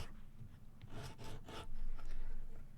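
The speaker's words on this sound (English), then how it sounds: "I think I'm going to take my little sanding stick I made," A handmade sanding stick rounds off the corners of a wooden guitar neck during a rebuild, making steady close scraping strokes that rise and fall in bursts, with no talk.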